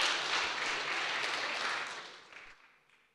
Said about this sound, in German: ich bitte um kräftigen Applaus für das Team Infinity mit Emil, Tillmann, Huzefar und Fabian